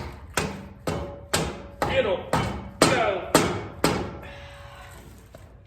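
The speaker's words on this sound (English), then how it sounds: "just take the handle end of your dead blow" Repeated sharp thuds from the handle end of a dead blow hammer striking parts during a four-link suspension install on a shop truck, about eight evenly spaced knocks with ringing decay, a voice speaking briefly between them.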